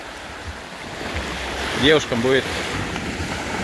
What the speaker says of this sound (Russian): приятно порелаксировать под шум моря, вид на океан